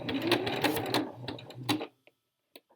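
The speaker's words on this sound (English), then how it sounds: "we're just going to simply stitch to the end" Domestic sewing machine stitching a seam on a boxy tee, a close, fast mechanical rattle of needle strokes running for about two seconds before stopping, followed by a couple of faint clicks in near silence.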